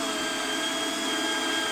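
A power drill runs steadily and loudly as it drives screws into a wooden pallet, a continuous close whine with no pauses or talk.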